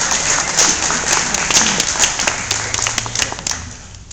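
An audience clapping together, a dense and fairly loud burst of applause that holds steady and then thins and fades toward the end.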